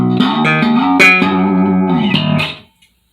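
Bass guitar played through a clean tone, plucked and popped in a short phrase of several notes with sharp attacks, close and loud, then cutting off abruptly near the end.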